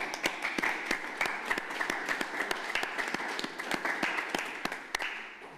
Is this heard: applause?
yes